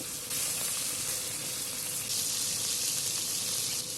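Fish pieces fry in a very hot kadai, giving a steady, dense sizzle that holds unbroken for a few seconds, close and even, with no talking.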